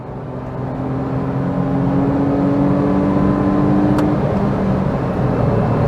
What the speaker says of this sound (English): listen to the sound of 3 cylinders of fury